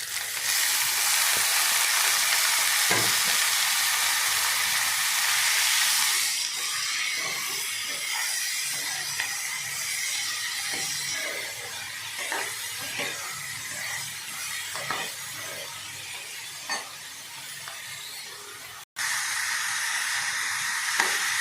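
Bitter gourd pieces frying in a pan with onions, giving a continuous loud sizzle and hiss, strongest at first and then settling into steady crackling with small pops and a few clinks.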